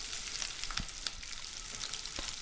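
Chopped onions frying with curry leaves in hot oil for ridge gourd moong dal, a crackling, spitting sizzle with frequent small pops and a few soft ladle knocks, close and steady, no speech.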